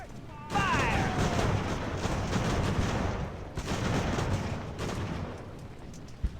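Broadside gunfire in an Age of Sail naval battle game, a dense continuous roar of cannon and musket volleys with rumbling low end and a few brief tonal calls, steady and loud throughout.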